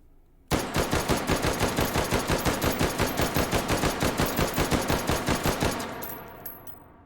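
Rapid automatic fire from an M1-style carbine fitted with a muzzle brake in the VR shooting game H3VR, one loud burst of about thirty evenly spaced shots, then a short decaying echo and a faint clink.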